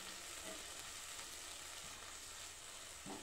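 Carrot halwa simmers and sizzles softly in a pan, a faint continuous bubbling hiss with a couple of light stirring touches and no voices.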